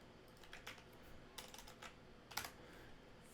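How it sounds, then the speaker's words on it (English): Quiet typing on a computer keyboard, a few clustered bursts of key clicks separated by pauses. "Let's just type them in."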